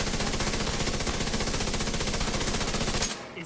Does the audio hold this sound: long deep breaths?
no